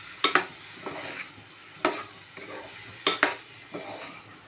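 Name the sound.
stirring ivy gourd paste frying in oil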